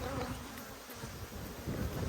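Honey bees buzz in the air around an open hive during an inspection, a dense, steady drone of many wings hanging close and fairly quiet, continuing without pause and with no talking.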